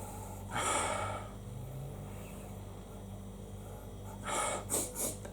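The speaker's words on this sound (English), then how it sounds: "let's have a sniff" Someone sniffs twice at a warm, freshly brewed homebrew Citra-hopped beer, a long nasal inhale near the mic followed by a second, broken series of quick snorting sniffs over a low steady hum.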